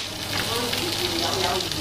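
Onions dropped into a hot pan hiss in a dense, steady sizzle that stays loud and close throughout the short stretch, with faint low background rumble and no clear talking.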